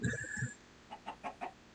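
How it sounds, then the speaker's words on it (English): Minecraft chickens clucking softly and close, a brief burst of low clucks at the start followed by four short evenly spaced clucks, otherwise quiet. "Oh, hi, chickens."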